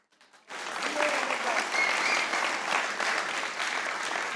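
Studio audience applause on a Hindi cricket comedy talk show about Pakistan's batting flop in the 2025 Asia Cup, rising after a brief quiet start into sustained, dense clapping that holds steady to the end.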